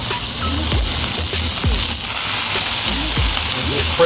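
Smash burgers topped with thinly sliced onions sizzle loudly and steadily on a hot Blackstone flat-top griddle, a broad crackling hiss with scattered spatula scrapes and low thumps throughout.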